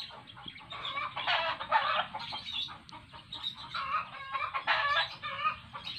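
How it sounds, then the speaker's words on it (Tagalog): Chickens cluck and a rooster crows near a hillside farm on Mount Arayat after rain, a continuous busy chorus of poultry calls at moderate distance, fairly faint, with no talking. "Wow, may manok."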